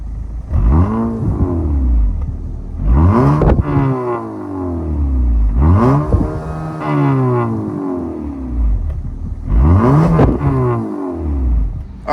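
A 2022 Acura ILX's 2.4-liter VTEC four-cylinder revved in repeated bursts, each rising to a loud rasping peak then falling back to a rumbling idle, close up with no talk.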